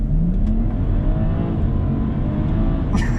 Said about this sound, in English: we're going to put it in Sport Plus, across into S, foot hard down on the left brake, on the brake with my left foot, plant it